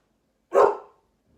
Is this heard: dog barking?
yes